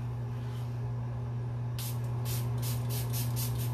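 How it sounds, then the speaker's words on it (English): Makeup setting spray goes off in a quick series of short, soft pumped hisses over a steady low hum in a quiet room. "Take your setting spray."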